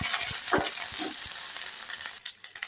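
Grated ginger sizzling and crackling in hot oil, a steady close-up fry with a few soft spatula scrapes and no talking.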